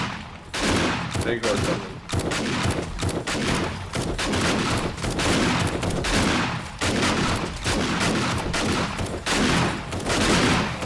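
Dense, rapid turret gunfire during horde night in the video game 7 Days to Die, loud continuous bursts rattling for most of the stretch, with someone briefly speaking over the shooting.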